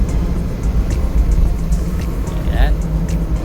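A truck passes on the road beside a moving car, its rumble blending with steady road and engine noise, while a person talks over the sound.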